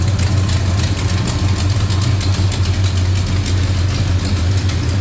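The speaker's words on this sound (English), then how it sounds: "Looking good and sounding good. 1963 Plymouth Belvedere." A 1963 Plymouth Belvedere V8 with an Edelbrock Corker 440 intake manifold and Edelbrock 4-barrel carb runs at a steady idle, a loud, deep and even engine rumble with no talking.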